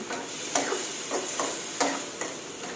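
Broccoli and fresh shrimp stir-frying in a pan give a steady close sizzle, broken by several sharp scrapes and clinks of a spatula tossing the food.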